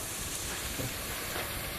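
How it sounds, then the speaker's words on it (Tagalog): Steady hissing, bubbling roar of a pot of chicken adobo at a rolling boil, continuous and fairly close, with no voices. "kumukulo na po siya"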